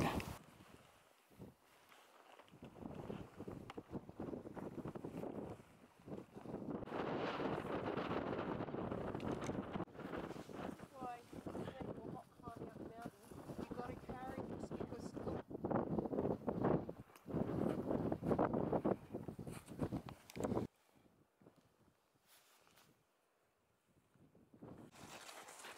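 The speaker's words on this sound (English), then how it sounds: "There's a bit of wind." Gusting wind on a snowy mountain buffets the microphone in long, loud rushing waves, easing to a quieter, steadier blow near the end; no voices are heard.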